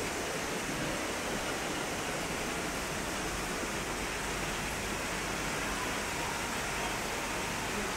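Heavy rain pours down outdoors near a river, a dense, unbroken hiss that stays loud and even throughout with no other sounds standing out.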